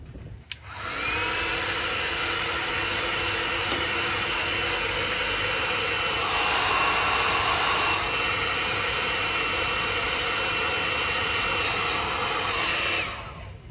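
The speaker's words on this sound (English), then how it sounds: "I'm just using a heat gun. I'm just going to give them a really light, just gently warm the plastic" A heat gun runs continuously while gently warming plastic trim on an Audi A4 Estate B7, a steady loud blowing hiss that starts abruptly, holds for about thirteen seconds, then cuts off.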